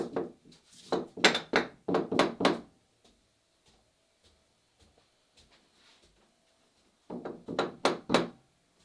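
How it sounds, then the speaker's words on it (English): A burst of sharp wooden knocks in quick succession, then several seconds of quiet, then another short run of taps on a plywood block being nudged into place while building a Catalina Wherry boat, close and fairly loud. "I can do that by just tapping this plywood block around until it's just so"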